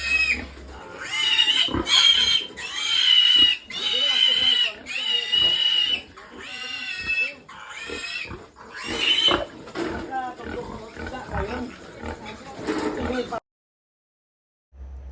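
Piglets squeal loudly and repeatedly while being injected by hand, shrill, near cries in bursts over the whole stretch, with people talking under and between the squeals before a sudden silence at the end.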